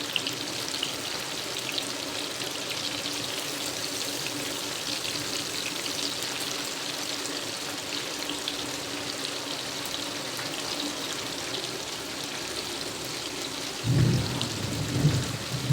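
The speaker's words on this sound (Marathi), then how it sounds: "एकदम कडक एकदाच नाही तळायचे आपण डबल एक वेळा तळणार आहोत" Soya chunks deep-fry in hot oil with a dense, steady crackling hiss like heavy rain, close and even throughout, with a brief louder bubbling surge near the end.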